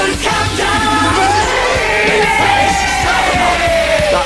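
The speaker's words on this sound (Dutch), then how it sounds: "jullie hebben zo hard lopen gillen dat je mijn naam niet meer gehoord hebt" A group of people scream and yell loudly and continuously in a radio studio during a Dutch top 100 countdown show, with overlapping voices forming a raucous wall of noise.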